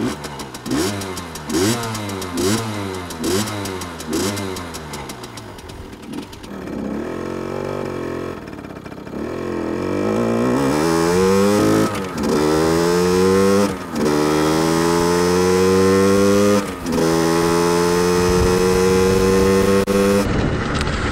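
A 50cc two-stroke motorcycle engine kicks into life and runs loud and close, with rapid repeated revs rising and falling at first, then longer sustained climbs to a high buzzing pitch, no talk over it.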